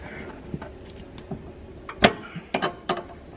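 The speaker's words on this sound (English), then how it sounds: "Get a wrench, get it on there," On a BMW E46 with coilovers going in, a wrench loosens the nut on a sway bar end link, heard as a few sharp metallic clicks and clanks spaced out over a quiet background, close by, without speech.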